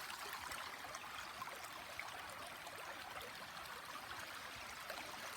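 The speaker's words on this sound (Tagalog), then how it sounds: "Ayan yung aming sapa." Continuous gentle rush of shallow creek water flowing over stones, steady and fairly quiet, with no voices.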